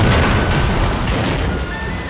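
Naval cannon fire in Total War Shogun 2, a loud, dense rumbling barrage of booms and blasts rolling together with no break.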